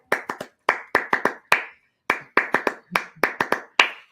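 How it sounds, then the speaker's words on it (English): Sharp, close hand claps come in quick uneven bursts of two or three with short gaps, sounding like a single person or a small group rather than a large audience. "So I'm going to make sure that you all are clapping it up with us as we sign off"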